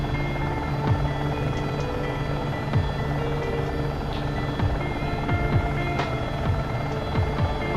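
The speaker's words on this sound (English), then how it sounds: "it really does get affected by wind quite a lot, this helicopter" Simulated Airbus AS350 B3+ helicopter in flight, with a steady, close throbbing rotor and turbine drone that holds even and loud, with faint rhythmic pulsing and no voices.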